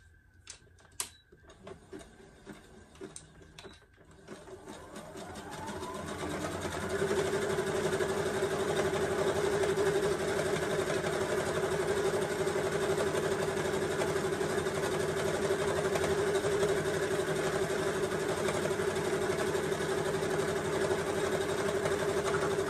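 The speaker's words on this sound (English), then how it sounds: "And now I'm going to sew down each side." A domestic sewing machine stitches down the side seam of a homemade crop top, starting with a few clicks and handling noises, then settling after a few seconds into a steady, loud, continuous whirring hum that runs without pause.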